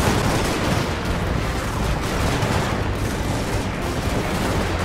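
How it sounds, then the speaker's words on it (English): Soldiers fire gunfire volleys in the Steam & Steel mod of a battle video game, a dense, loud, continuous crackle of massed musket shots and booms with no pauses and no talk. "Oh wow, they're shooting too."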